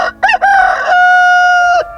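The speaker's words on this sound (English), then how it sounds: "a rooster crowed." A rooster crows once, loud and close, with a choppy rising start breaking into a long sustained held note that cuts off cleanly.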